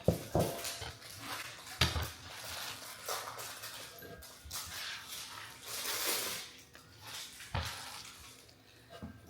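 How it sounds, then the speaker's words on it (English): Chopped salad vegetables such as cabbage and carrots are tipped into a big mixing bowl in a home kitchen, making a series of close rustling, clattering drops and scrapes with a few sharper knocks, and no one talks. "we put everything into a big mixing bowl"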